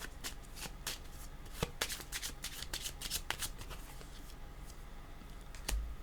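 Tarot cards being shuffled by hand, a quiet run of crisp riffling flicks and soft slaps, close up, with no talking.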